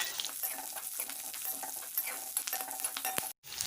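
Sliced shallots and curry leaves sizzle in hot frying oil for a Tamil paruppu urundai kulambu, a steady close crackle with stirring scrapes and no talk.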